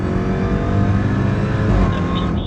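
A stage 1 Jeep Trackhawk accelerating hard at a racing venue, its engine a loud, steady roar that climbs and then drops as it shifts gears near the end.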